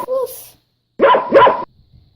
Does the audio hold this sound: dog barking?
yes